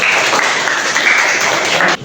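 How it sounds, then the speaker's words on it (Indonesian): Applause for a student group after a classroom presentation, a short burst of dense clapping from a room of people that cuts off at the end. "berikan tepuk tangan untuk kelompok."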